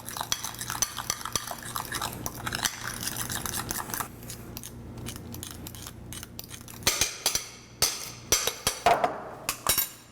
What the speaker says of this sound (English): So let's take our fork or whisk and mix it all together.